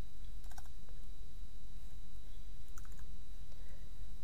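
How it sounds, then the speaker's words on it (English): Light keystrokes on a computer keyboard come as a few soft, scattered clicks in small clusters, faint over a constant low hiss. "let's start typing in a summary"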